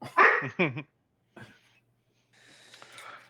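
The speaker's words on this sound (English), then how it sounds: "She's just sitting there barking at her own shadow right now." Sky the dog gives a few quick, close barks at her own shadow, then falls quiet. Faint snuffling and low background noise follow.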